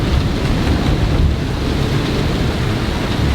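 Strong storm wind roaring over an anchored boat pulling hard on its anchor, with gusts around 35 knots, a loud continuous buffeting rush of wind and rain close to the microphone, no voices.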